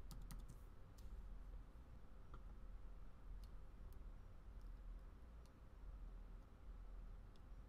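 A password is typed on a computer keyboard, producing quiet, quick key clicks in an uneven rhythm, fairly close but soft against a faint room hum.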